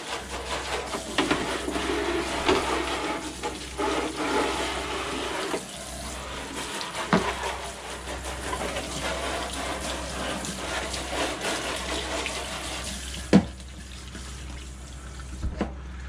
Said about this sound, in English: Now we're going to go ahead and rinse it thoroughly, making sure there's no soap on it.